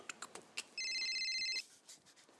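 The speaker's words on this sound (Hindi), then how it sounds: "बबीता जी का फोन" A telephone rings with a steady electronic trill for under a second, surrounded by scattered clicks and light clatter.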